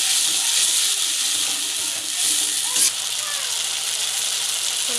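A steady, bright sizzle from tomato added to a hot frying pan with garlic and ginger paste for a fish curry with potatoes, a close, constant hiss that barely changes over the few seconds.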